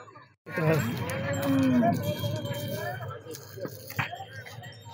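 A cow lets out a long, low moo over a noisy background of crowd chatter and movement at a cattle market in Deoli, Wardha district, Maharashtra.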